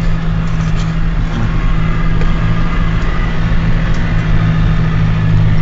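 A tractor engine, New Holland or Massey Ferguson, runs loud and close with a steady low rumble that holds throughout, sounding like a sustained rev or high idle with no talk over it.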